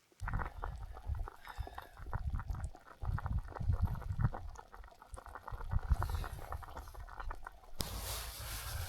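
Irish stew bubbles and simmers continuously up close in a pot on a 3F UL camping stove, thick popping bursts churning steadily, with a brief hiss near the end.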